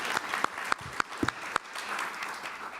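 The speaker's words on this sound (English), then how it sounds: "Let's give him a round of applause" A small audience at a meeting claps for Glenn, quietly and briefly. A few distinct hand claps stand out over a soft background, and the applause fades away.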